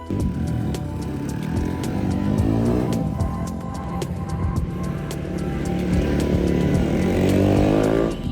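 TVS racing motorcycle on a race track, a loud continuous engine note rising and falling with throttle changes, gear-shift steps and a strong revving climb toward the end, with no talk.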